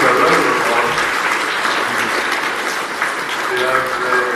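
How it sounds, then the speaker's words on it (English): A debate audience on Irexit and the EU breaks into loud, sustained applause, a dense wash of many hands clapping throughout, with faint voices mixed underneath. "please give a round of applause"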